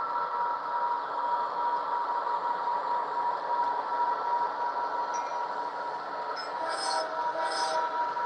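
Model coal train of an Omaha Public Service consist running on a BNSF-themed layout, a steady continuous rumble and rolling whir with a couple of faint high squeals near the end.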